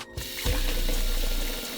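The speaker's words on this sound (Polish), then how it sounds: "dolewam tutaj wody" Water pours steadily from a tap into a bowl set in a kitchen sink, filling it to submerge mushroom-growing blocks, a continuous close rushing splash that lasts almost the whole time after a brief start.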